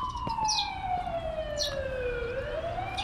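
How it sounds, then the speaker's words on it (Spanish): A wailing ambulance siren from the Korean horror game The Coma Recut sweeps down and back up in pitch, loud and continuous over a low rumble. "¿qué pasa con esa ambulancia?"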